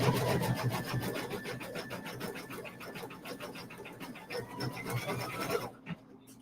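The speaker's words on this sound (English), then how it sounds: "So it's just doing some decorative stitching." An embroidery machine stitches decorative patterns in white thread on an in-the-hoop placemat, giving a steady rapid needle chatter with rhythmic pulsing that runs for several seconds before stopping abruptly near the end.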